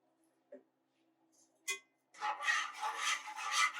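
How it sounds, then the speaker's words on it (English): A whisk stirs vanilla essence into a stovetop sauce for candied yams. A couple of soft clicks come first, then a steady close scraping and rasping runs to the end. "And you whisk it together in the sauce."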